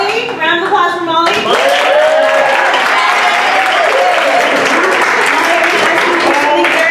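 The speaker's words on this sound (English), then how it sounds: "Round of applause for Molly." Classroom audience of children and adults applauds a girl named Molly, steady loud clapping filling the space for several seconds with cheering voices and chatter mixed in.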